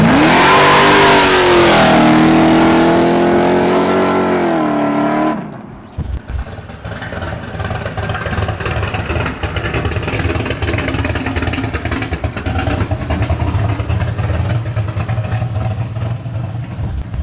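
A 1970 Chevelle with an 850 hp, 632 cubic inch naturally aspirated V8 launches hard, its engine note climbing loudly for about five seconds before dropping off into a steady, rumbling roar that fades into the distance.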